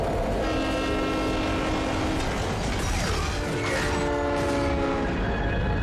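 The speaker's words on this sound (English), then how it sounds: "Is the train coming?" A train approaching with its horn sounding, as sustained, layered horn tones over loud, continuous mechanical rumbling and clanking that persists throughout.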